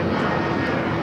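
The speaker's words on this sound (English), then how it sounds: "Latam Airlines flight 2479 heading to Lima in the 767." A Boeing 767 jet airliner departing LAX gives a steady, broadband engine roar that holds at constant loudness through the short stretch, with no voices over it.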